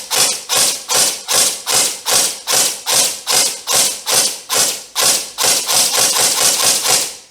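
Honey Badger gel blaster firing single semi-auto shots, about twenty sharp mechanical thumps in a steady rhythm that quickens toward the end, loud and close with no talk.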